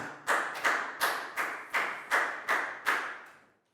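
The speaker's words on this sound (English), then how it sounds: "Big round of applause for Pak Bung." A Year 4 health class gives a round of applause for a pupil: about eight evenly spaced, sharp claps in a steady rhythm, each ringing briefly in the room before the next, with no talking.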